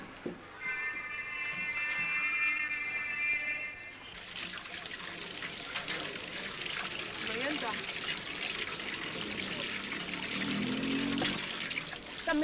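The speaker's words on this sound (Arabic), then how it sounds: "لما انا فتحت الميه" Water gushes and trickles from an opened tap, a steady rushing flow that starts after a few seconds and continues under talk and background noise.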